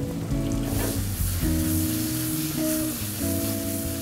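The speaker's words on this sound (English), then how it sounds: "We're gonna add our onion." Onion cooking in a pan of brown butter sizzles steadily, with a low tonal hum and some clinking heard along with it; no one speaks.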